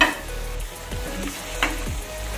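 Fried soybean chunks sauté in a spiced masala for a Bengali-style soybean malaikari, with a close, steady sizzle broken by a few scraping stirs of a spoon against the pan.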